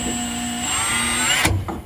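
A power drill whines steadily at high speed, close up, then cuts off abruptly with a short knock afterward.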